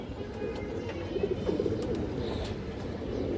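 Soft, continuous cooing from fancy farm-bred pigeons fills a loft, several birds murmuring together at a low, even level with no talk over them.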